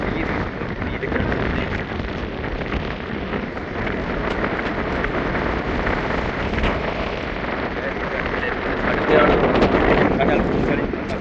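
Storm wind blows hard along the Jaffna coast near the Nainativu ferry route, a loud, constant roar with rushing gusts that batter the microphone, while a voice talks underneath.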